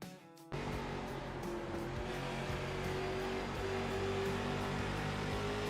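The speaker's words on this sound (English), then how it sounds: "Just to hear what the throttle sounded like." A race car's engine held at full throttle in a racing video game, a loud steady roar that rises slightly in pitch and continues without a break after a short quiet start.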